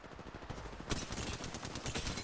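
Rapid automatic gunfire from a video game shooter crackles in quick bursts, thinner at first, then becoming a dense, loud barrage through the rest of the moment.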